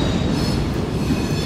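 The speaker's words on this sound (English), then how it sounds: "Sorry about the trains." A train running along a nearby railway track beside an outdoor spot, a loud, steady rumble with grinding metallic wheel noise and high squeal throughout, no voices.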